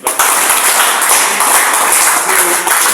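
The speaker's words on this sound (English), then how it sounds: "Please clap for him." A group claps steadily for a few seconds, a dense, bright patter of many hands nearby, in a school laboratory after a hydrogen gas pop test.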